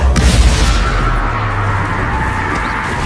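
A spell blast in a Harry Potter video game lands with a heavy booming crash at the start, followed by a low rumbling tail and steady game noise.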